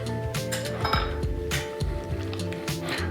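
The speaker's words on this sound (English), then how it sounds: "mash that up the best we can" Avocado is mashed for guacamole, giving a string of light clinks and taps of a utensil against a dish with soft squishy bits between them, close and fairly quiet.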